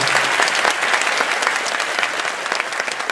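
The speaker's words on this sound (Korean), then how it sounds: "한번 칭찬 박수 부탁합니다" A lecture hall audience at a university leadership talk breaks into warm, sustained applause, many hands clapping densely and close at a steady level for the full stretch.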